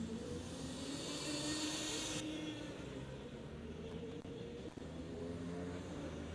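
A rear-wheel drive Formula Student race car drives an endurance session on track, its engine a steady distant drone with a faint whine, fairly quiet and unbroken, with no talking.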